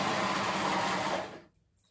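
A cover stitch machine runs with a fast, steady whir for over a second while top stitching, then cuts off into near silence.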